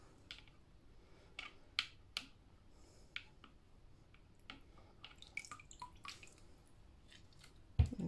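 Wet felt being squeezed out in cold water during wet felting, giving scattered faint drips and soft squishes with a few sharper splashy pops, quiet and close with no talk.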